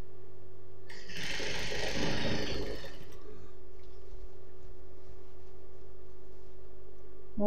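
A sewing machine stitches a churidar top in one loud, fast burst of about two seconds, then stops, leaving a quiet hum.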